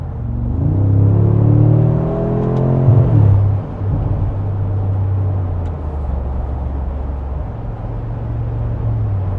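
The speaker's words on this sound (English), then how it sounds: "Amazing sound when it downshifts." A 2025 Mercedes-Benz G63 AMG under way, its engine and exhaust giving a loud, close rumbling drone that climbs in pitch, breaks off sharply, then settles into a lower steady growl, with no talk.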